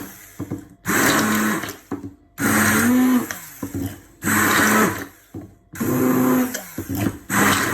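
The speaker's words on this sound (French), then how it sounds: "Et là, je vais les mixer." A blender pulses frozen strawberries and raspberries for homemade ice cream in four loud, grinding bursts, each lasting about a second and a half, separated by short pauses, with no talking.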